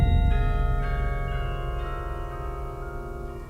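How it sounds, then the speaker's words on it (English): Orchestral chimes and bells from a concert band's percussion section strike together in a rehearsal, then ring on in a long, loud, slowly fading shimmer of sustained tones. "your ear is going to go with the decay of what you heard from the chimes"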